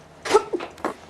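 A single short sneeze indoors in a classroom, close and fairly loud, a quick burst followed by a softer trailing sound.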